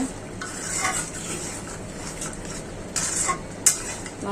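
Liver curry with onions simmers in a pot while a spoon stirs it, with scattered metallic scrapes and clinks over a low, quiet sizzle and one sharp knock near the end.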